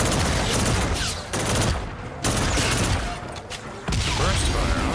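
Repeated bursts of gunfire from the Call of Duty: Infinite Warfare video game, loud, rapid clusters separated by brief gaps, filling the scene with dense crackling shots.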